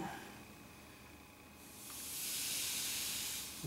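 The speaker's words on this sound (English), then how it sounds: "See the steam coming out." A clothes iron on about three-quarter heat steams through a rag laid over a dent in a wooden gun stock, giving a steady close hiss that swells louder midway and holds, with no talking.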